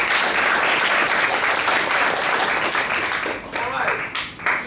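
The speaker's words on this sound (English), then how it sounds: "Give yourself a round of applause." Loud, sustained applause from a meeting audience at an opening address, a dense wash of clapping that thins and tails off near the end, with voices mixed in.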